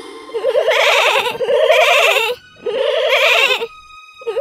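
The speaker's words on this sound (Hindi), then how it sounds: "जब वो घर में आए तो उन्होंने बकरी के बच्चों की आवाज सुनी।" Goat kids in a cartoon bleat in three loud, wavering bursts, each lasting about a second, with short gaps between them, close and clear with no speech.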